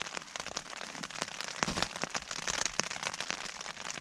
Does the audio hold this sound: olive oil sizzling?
no